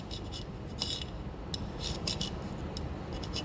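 A small screwdriver scraping dirt from the grooves of a classic 1965 Mercedes W113 Pagoda 230 SL headlamp, a close, continuous gritty rasping with short sharper scratches over a constant background noise, no talking.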